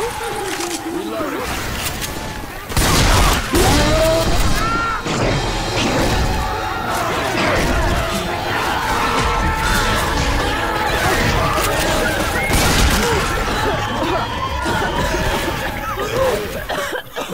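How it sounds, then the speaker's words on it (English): Left 4 Dead 2 gameplay with dense gunfire bursts and impacts over a loud, busy mix of game effects, while voices talk and call out throughout. "Nice shot, Coach."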